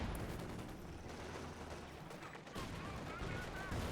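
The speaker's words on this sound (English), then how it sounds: "Decent grenade." Grenade blast in Company of Heroes, a World War II strategy battle; a sharp explosive burst cuts through steady crackling gunfire and battle din, with a second surge of noise near the end.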